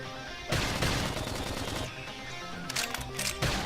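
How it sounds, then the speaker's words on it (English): Rapid video-game gunfire from Xenoblade Chronicles X crackles in dense bursts, a continuous rattle of shots close by, briefly pausing before another quick volley. "If we can just topple them with gunfire"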